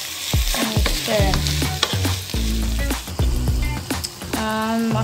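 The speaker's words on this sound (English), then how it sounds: "And stir" Ground beef seasoned with soy sauce sizzles loudly in a frying pan while a utensil stirs and scrapes through it in repeated strokes, close up and steady, with no talking.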